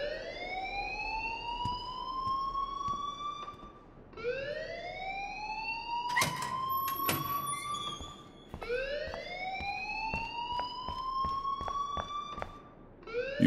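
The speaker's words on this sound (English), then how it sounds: "please turn off that alarm" An alarm in the video game Life Is Strange wails in rising, siren-like sweeps, repeating three times at a loud, steady level, with sharp clicks and knocks scattered between the tones.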